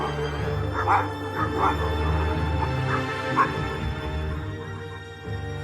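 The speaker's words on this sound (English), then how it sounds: "outside, far off, a dog barks, on and on through the whole restless night" A dog barks far off in a series of scattered, muffled yips and whimpering barks, repeating at uneven intervals through a steady low background hum, with no one talking.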